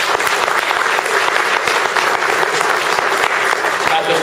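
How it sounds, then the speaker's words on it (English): A crowd at a mayor's New Year speech claps loudly and steadily, a dense burst of applause close by, with faint speech mixed in beneath the clapping. "Give them a round of applause"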